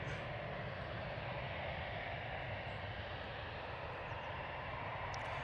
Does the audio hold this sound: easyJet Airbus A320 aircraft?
yes